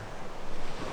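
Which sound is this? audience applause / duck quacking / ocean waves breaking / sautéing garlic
ocean waves breaking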